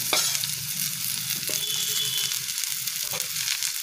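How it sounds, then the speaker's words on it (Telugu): Ridge gourd pieces sizzle in a pan with onions and ginger-garlic paste, a continuous bright hiss broken by a few sharp clicks and scrapes of stirring, close up and without speech. "తర్వాత పొట్లకాయ ముక్కలు వేసుకోవాలి."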